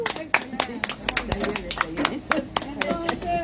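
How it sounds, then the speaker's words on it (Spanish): An audience applauds at a sustainability talk with guest speakers: a few hands clap in sharp, irregular, uneven beats while a voice speaks over them. "Excelente, un aplauso."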